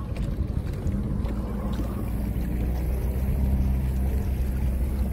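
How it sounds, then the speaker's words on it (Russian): A small motorboat with an outboard motor cruises slowly over calm water, its low steady engine drone and water wash continuous and fairly close, with faint wind on the microphone throughout. "Как здорово иметь такую свою лодочку с моторчиком."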